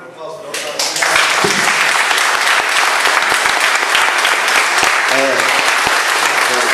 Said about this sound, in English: Round of applause for